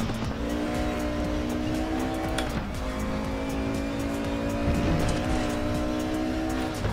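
A Mercedes on a lap with a steady, sustained engine drone and tires squealing throughout, the pitch dipping briefly twice as the car works through corners.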